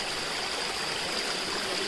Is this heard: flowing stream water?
yes